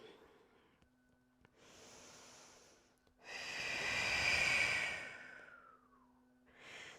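Slow deep breathing during a yoga flow, a soft inhale followed by a longer, louder airy exhale through the nose and mouth, close and alone, with a fresh breath starting at the end.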